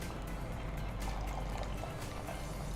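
A thin stream of water trickles and splashes into a pan of Bangda fish curry masala, a soft continuous pour heard close and alone.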